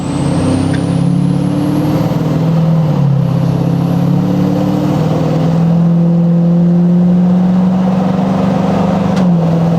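Ford 6.7L Powerstroke diesel truck fitted with a huge turbo, accelerating and spooling while merging onto a highway: a loud, continuous engine drone whose pitch climbs and shifts as it pulls, with no talking.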